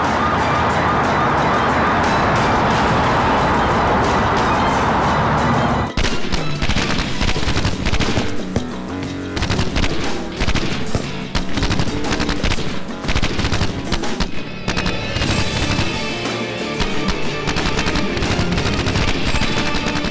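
Loud, dense action-film battle in a police special-forces drama: sustained machine gun bursts and gunfire, with a siren-like wail for the first few seconds, then rapid continuous shooting and impacts throughout.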